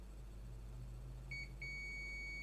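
Multimeter in continuity mode testing a PlayStation 4 optical drive circuit gives two short beeps followed by a sustained steady tone, faint over a low electrical hum.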